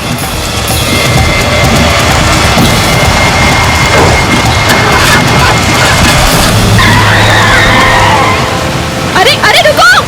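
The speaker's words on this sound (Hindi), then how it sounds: "मैं गाड़ी शुरू करके देखता हूँ।" A car sits in heavy rain at night, its engine noise steady and loud under the constant downpour, with a skid-like rising burst near the end and voices speaking over it.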